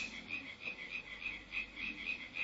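A chorus of frogs croaks in a steady, pulsing rhythm, the repeated calls moderately close and unbroken by any voices.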